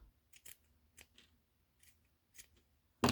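Scissors snipping tassel threads: a handful of sharp, close, crisp snips spread irregularly over a few seconds, quiet in between, with a louder bump at the very end.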